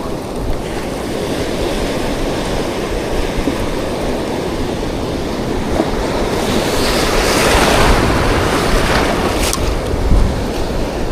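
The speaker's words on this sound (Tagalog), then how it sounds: "Oh, alon." Heavy ocean surf on a shallow fishing spot after a typhoon, a loud, continuous roar of breaking waves mixed with strong wind buffeting the microphone, with no voices.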